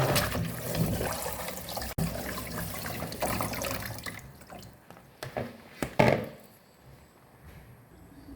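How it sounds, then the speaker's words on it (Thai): Soybeans are rinsed with water in a sieve: a continuous rushing, splashing flow that eases off midway, followed by scattered drips and a few louder sloshes of water and beans, close up with no speech. "ก็จะล้างใส่ตะแกรงนะคะ หรือว่ามีกระชอนอะไรก็ได้จะล้างง่ายค่ะ น้ำที่สามแล้วค่ะน้ำเริ่มใส่"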